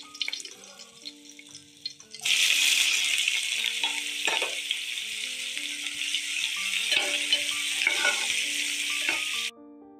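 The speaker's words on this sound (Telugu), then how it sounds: "దంచి పక్కన పెట్టుకున్న మసాలా ముద్ద కూడా వేసి నూనెలో వేయించుకోవాలి" Ground spice paste of ginger, garlic, cumin and cloves hits hot oil for a chana dal curry, bursting into a loud steady sizzle that runs for several seconds, with faint stirring scrapes and a music bed throughout.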